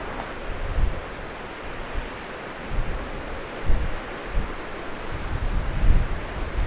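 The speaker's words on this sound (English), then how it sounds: "The wind is coming straight at me" Wind blows across an open lake and buffets the microphone with a steady rushing roar and low gusty thumps that rise and fall throughout.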